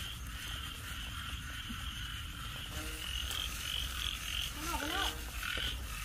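Frogs croak in a wet night field near a lathe workshop during a frog hunt, with several clear calls toward the end over steady insect and background noise, and quiet voices in the distance.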